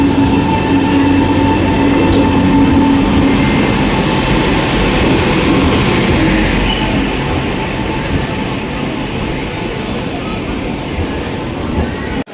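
A passenger train running from Raipur to Varanasi rumbles loudly and continuously from inside the carriage, with steady rail noise, faint wheel clatter and occasional squeals throughout.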